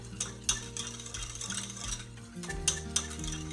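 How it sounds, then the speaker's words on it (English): Half a kilo of yogurt being whisked thin in a bowl, with continuous scraping and swirling and a few sharp clicks of the whisk against the side, near and fairly loud, with no talking. "We're going to whisk it really thin."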